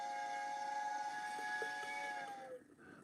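A distant train passing with a sustained whistle or horn tone held for a couple of seconds before fading out, faint and far off with no speech.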